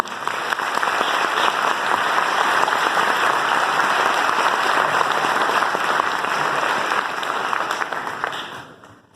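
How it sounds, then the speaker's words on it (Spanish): Audience at a social work congress in Temuco applauding an invited speaker, a loud, sustained, dense wave of many hands clapping that holds steady and then fades out at the end. "les pido un fuertísimo aplauso"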